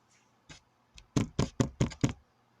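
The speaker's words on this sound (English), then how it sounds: "all of a sudden there was a knock on my door." Knocking on a bedroom door: a couple of soft taps, then five sharp, evenly spaced knocks close by, heard alone in a quiet room.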